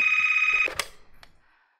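A telephone rings once in a French audio drama, a bright trilling bell tone holding for over half a second, then a sharp clatter as the receiver is handled and the sound fades out.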